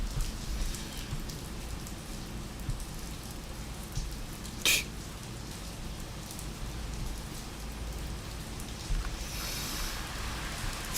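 Steady rain falls on a wet day outside, a continuous dense patter that stays even throughout with a brief sharper tap midway, no voices over it.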